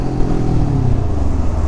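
A motorcycle fitted with a long, bent DX Generation aftermarket exhaust revs nearby, a loud, rough, throbbing engine note that rises and falls slightly, with no talking.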